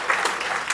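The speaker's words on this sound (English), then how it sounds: "You're already clapping and I haven't even done anything." Attendees at a scientific Python conference talk burst into applause, a brief, steady wash of many hands clapping in a hall, heard alone and at moderate volume.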